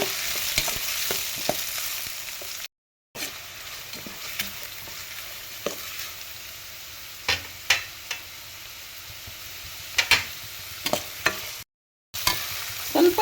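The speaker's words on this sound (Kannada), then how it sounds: "ಈರುಳ್ಳಿ ಹಸಿ ಸ್ಮೆಲ್ ಹೋಗೋವರೆಗೂ ಫ್ರೈ ಮಾಡಿದ್ರೆ ಸಾಕಾಗುತ್ತೆ" Chopped onion and garlic frying in a pan for palak rice, a steady broadband sizzle with scattered sharp clicks of a spatula stirring, close and fairly loud, with two brief dropouts.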